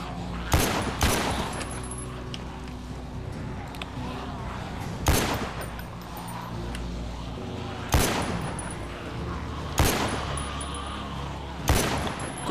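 Bursts of gunfire and explosions from the zombie survival video game The Walking Dead: Survival Instinct, sounding as five sharp loud blasts spaced a couple of seconds apart over a steady noisy game backdrop.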